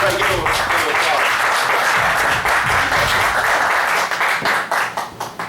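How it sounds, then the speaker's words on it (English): An audience at a morning legislative session retrospective applauds: dense, loud, continuous clapping from many hands that thins out and fades toward the end. "So everybody give him a applause."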